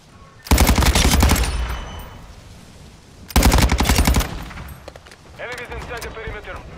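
Call of Duty MW2 multiplayer gunfire: two loud sustained automatic bursts, each about a second long, separated by a pause, followed by fainter game sound effects and a voice.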